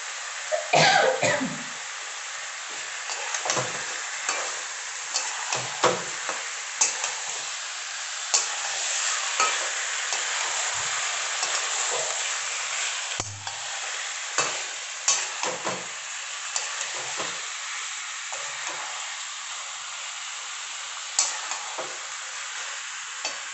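Chicken frying in a wok gives off a continuous close sizzling hiss, broken by repeated scraping clatters as it is stirred, with an occasional cough nearby.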